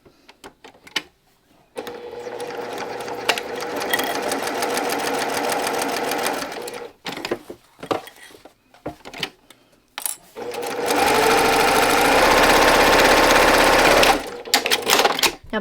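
Sewing machine stitching the seam of a fabric sunglasses case, two long runs of fast, steady whirring and needle chatter, close and loud, separated by pauses with small handling clicks.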